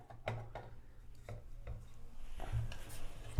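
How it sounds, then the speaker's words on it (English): An adjustable wrench works on a shower arm during a shower head replacement, giving scattered close metallic clicks and scraping rubs at an uneven pace, with no talking. "Just have a adjustable wrench here"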